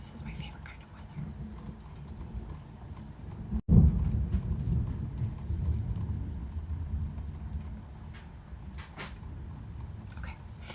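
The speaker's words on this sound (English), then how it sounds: "Oh my goodness, I really hope you can hear this rain." Rain falls outside during a thunderstorm, a soft steady hiss under whispered talk, with a sudden low rumble of thunder swelling partway through and fading slowly.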